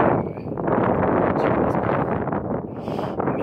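Steady wind roars and buffets close to the microphone on an open plateau, a broad, rough rushing sound with no voices.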